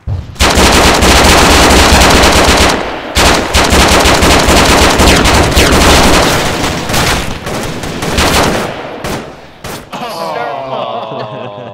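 Sustained loud automatic gunfire in Arma 3, continuous bursts of rapid shots with sharp gaps near three and nine seconds, a flashbang thrown into a big room amid the firefight, ending in scattered quieter noise.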